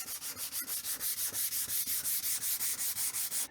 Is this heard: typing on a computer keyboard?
no